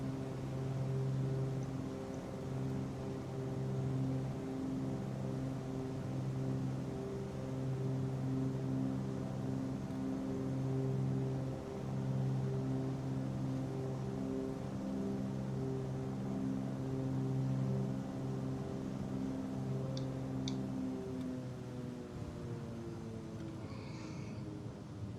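A light aircraft's engine throttled back on landing approach over Ladakh, a steady droning hum with layered harmonics that gradually shifts in pitch, heard continuously from inside the cockpit.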